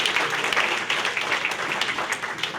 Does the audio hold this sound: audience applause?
yes